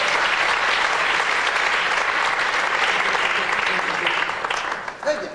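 A theatre audience applauds a volunteer from the crowd as they come up on stage, steady dense clapping that holds loud for about four seconds and then thins out and fades at the end.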